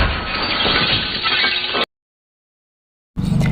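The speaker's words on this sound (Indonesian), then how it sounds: "tiba-tiba Jafik berlari melompat menabrak kaca" A man crashes through glass in a film, giving a loud burst of breaking and shattering that cuts off abruptly into silence before another noisy burst returns.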